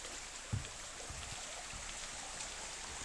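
A creek flows steadily beneath a small bridge in Shenandoah National Park, a faint, even wash of running water with a few soft low thumps near the start.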